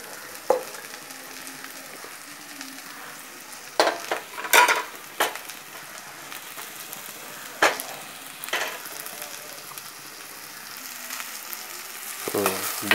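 Beetroot cooks in a pan with a faint, steady sizzle, broken by scattered scrapes and clacks of a spoon stirring against the pan.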